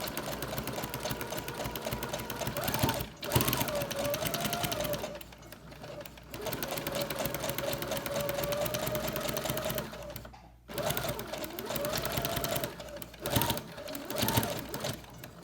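A sewing machine stitches through a quilted pot holder in long steady runs, a close, even mechanical whir with brief pauses and restarts between passes.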